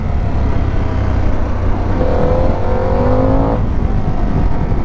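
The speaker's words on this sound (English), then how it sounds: "very nice intake sound" A 2026 Harley-Davidson motorcycle engine pulls steadily under load with a rising intake note, loud and close, mixed with wind and road noise and no talk.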